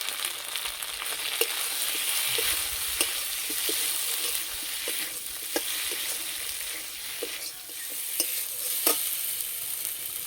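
Potatoes with ginger paste and ground chili, cumin, coriander and turmeric stir-fried in a pan, a steady sizzle broken by frequent scraping clicks of a spatula stirring, close up with no talk.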